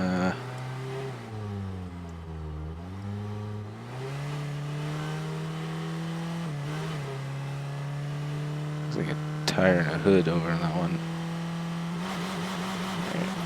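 An in-game car engine drones and revs steadily for the whole stretch, pitch rising and dipping as it drives, with a voice talking over it.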